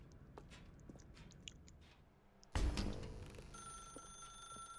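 A telephone ringing in the video game The Stanley Parable: after a quiet stretch a sharp burst sets in, followed by a steady, sustained electronic ring tone in a dark room, with no talk.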